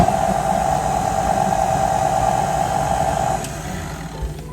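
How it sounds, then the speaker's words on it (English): A stand mixer with a dough hook works overnight sourdough bread dough, giving a steady close motor hum and whine that drops in level near the end, with a faint knock just after. "So I'll give this a quick mix with my dough hook in the mixer"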